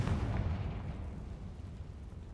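A fire-blasting spell detonates in the Hogwarts Legacy video game, giving a deep, rumbling boom that fades away over a couple of seconds with no voices.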